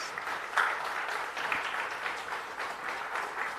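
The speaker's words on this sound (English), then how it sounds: "I think they deserve a round of applause." Round of applause from a conference audience at the Jamaica Diaspora Conference launch, honoring partners. Moderately loud crowd clapping, steady and continuous, somewhat distant, with no speech.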